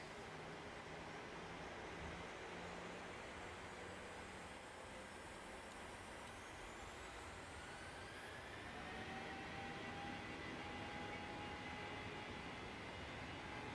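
Boeing 737-700 engines in Microsoft Flight Simulator 2020 spool up for takeoff with a broad, continuous roar and rising whine, faint and steady throughout.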